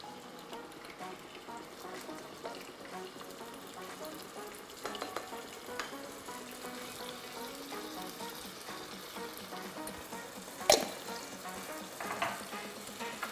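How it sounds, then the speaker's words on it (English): Chopped onions sizzle steadily as they fry in palm oil in a pot for native jollof rice, with occasional stirring clatter and a sharp utensil knock near the end. "So I'm just going to add my chopped onions in here."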